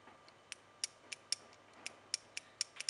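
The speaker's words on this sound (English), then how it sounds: "That's the relay coil clicking." Automotive relay coil on a car stereo parking brake bypass clicking repeatedly, a string of sharp, quiet, close ticks at irregular intervals over a faint hiss.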